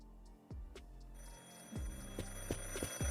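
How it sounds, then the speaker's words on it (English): A telephone rings in a video game, a few sharp repeated bell-like rings over a low steady hum, fairly close and clear with no talking. "Someone's ringing the phone."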